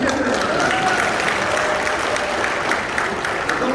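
Applause from the audience at a national church elders' conference, steady and dense crowd clapping that holds at a constant level throughout.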